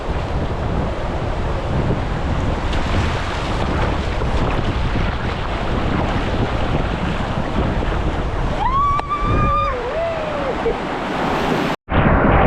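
Sea surf at Murud Janjira beach: a loud, continuous roaring wash of waves mixed with heavy wind buffeting, with a brief whistle-like tone near the end.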